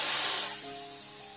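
Hot oil tempered with cumin is poured into cooked lentils, setting off a loud, sudden burst of sizzling hiss that quickly drops to a softer, steady crackle, with no talking.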